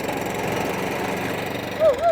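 Petrol cylinder lawn mower engine idling nearby: a steady, even mechanical drone with a rapid pulsing beat throughout, and a brief tonal voice-like sound near the end.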